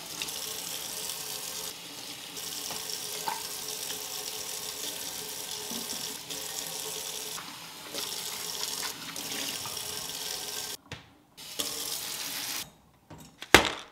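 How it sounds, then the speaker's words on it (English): Kitchen sink tap running while things are washed, a steady trickle and splash with brief pauses, ending in a few clatters. "I'm sorry that you have to wash everything."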